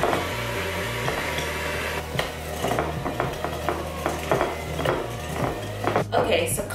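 An electric hand mixer runs on its lowest speed, creaming butter and sugar together for a vegan vanilla cake, with a steady low motor hum and irregular clicks and scrapes of the beaters against the bowl, close up.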